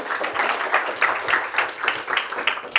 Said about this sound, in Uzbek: Marhamat, olqishlar bilan.